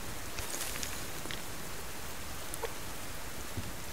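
Steady in-game rain falling in the survival game Subsistence, a continuous broadband hiss with occasional faint drop ticks, no talk over it.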